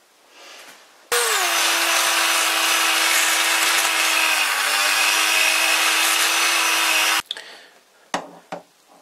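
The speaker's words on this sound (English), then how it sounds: "I'm going to use my Dremel and try and make some more room." A Dremel rotary tool grinds to enlarge a tight-fitting hole in a lathe holder part, giving a loud, steady high-pitched whine that runs for about six seconds and then stops, followed by a few brief clicks and handling noises.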